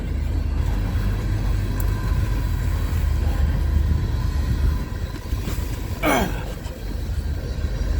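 VIA passenger and CN freight trains pass a crossing in a blizzard, with a loud, steady rolling rumble of cars on the rails and one brief sharp squeal near the end.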